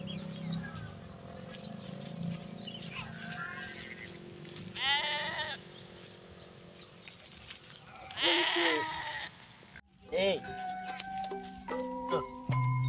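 Sheep bleat repeatedly at close range on a farm, several loud wavering calls standing out over background chatter and livestock noise, with people talking nearby.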